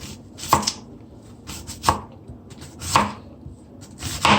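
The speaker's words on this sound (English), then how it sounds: "I'm cutting on the onion." A knife chops an onion on a cutting board while Jamaican-style curry chicken is prepared, giving four crisp, evenly spaced chops, close and fairly loud, with quiet gaps between them.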